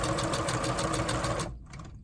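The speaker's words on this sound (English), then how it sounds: "I'm going to go ahead and do my straight stitch all the way down till I get back to" A sewing machine running a steady straight stitch through paper, a fast even mechanical whir with rhythmic needle pulsing, close and loud for about a second and a half before stopping abruptly.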